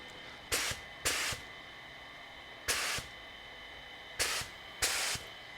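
A spray gun test-sprays primer while a 1965 Thunderbird is being painted: five short, sharp hissing bursts, fairly close, with quiet pauses between them.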